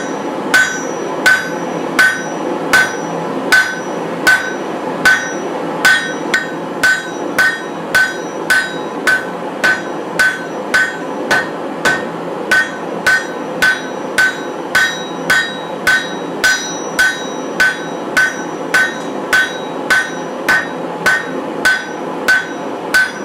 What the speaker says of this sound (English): sometimes it's fun to just go at it with the hammer